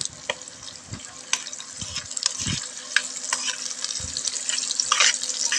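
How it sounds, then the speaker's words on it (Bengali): A fish curry is stirred in a pan on an induction cooker, giving a steady bubbling simmer with soft scraping strokes of the spoon and a few low knocks against the pan. "ডান হাত দিয়ে আমি একটু নাড়িয়ে চাড়িয়ে নিচ্ছি"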